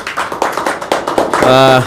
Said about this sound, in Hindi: तालियों की इस गड़गड़ाहट के बीच